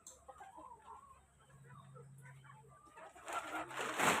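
Chickens cluck and call close by at feeding time on a farm where pigs are also kept, with soft scattered clucks, one longer low call, and a burst of louder rustling noise near the end.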